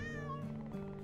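A cat meows in the video game Travellers Rest, one drawn-out, clear meow up close over steady background game music, ending with a short bright click.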